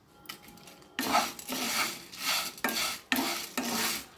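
Cumin seeds and dried red chillies being dry-roasted in a pan without oil for bitter gourd powder, a dry scraping rasp of a spatula stirring in repeated strokes with short pauses, no voices.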